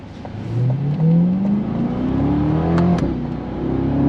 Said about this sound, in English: That GM Performance exhaust, when it's wide open, it sounds glorious.